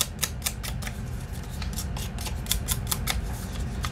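Scissors cut through a junk mail envelope in a quick, rhythmic run of crisp snips, close and fairly clear, with no talking.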